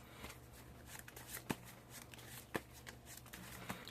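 Cards from a Yu-Gi-Oh style deck being shuffled in quiet, faint riffling with three sharper snaps spaced about a second apart, with no one speaking.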